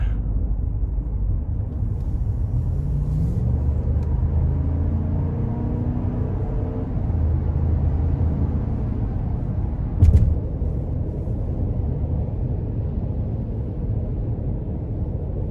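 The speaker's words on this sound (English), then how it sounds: "We'll give it a little throttle here getting on the interstate." A 2022 Wagoneer engine pulls as it accelerates onto an interstate, heard from inside the cabin as a steady low drone with rising tones, plus one brief thump partway through.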